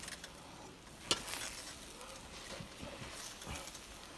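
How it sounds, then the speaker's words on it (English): Meats and spices for Russian pilaf are stirred in a pan, with a soft, steady sizzle, a sharp clank of the utensil early on and a few faint scraping strokes, heard close and quiet. "we're gonna mix it all really good. All the meats and spices gonna be mixed"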